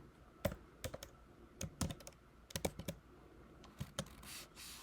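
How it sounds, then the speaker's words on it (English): Quiet, close clicking of computer keys in short irregular bursts as a name is typed, the separate sharp taps spaced unevenly with brief pauses between them. "I'm going to highlight that and type in what I want to call it"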